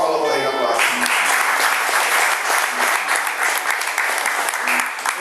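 A church congregation breaks into dense, sustained applause that fills the room, steady and loud throughout, with a voice briefly heard at the very start before the clapping swells.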